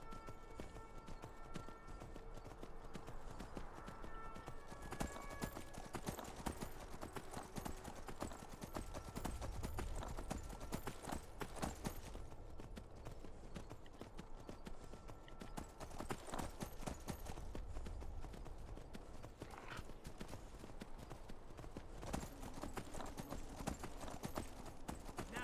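Galloping horse hooves in Skyrim, a steady fast clip-clop running under game ambience and music for the whole stretch, with a brief whinny possible and occasional voice.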